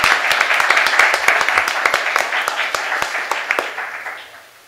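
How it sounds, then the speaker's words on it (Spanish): An audience applauds guest speakers at the close of a university social sciences panel, a dense crowd of clapping that stays strong, then thins and fades toward the end. "Un aplauso a nuestras invitadas de nuevo."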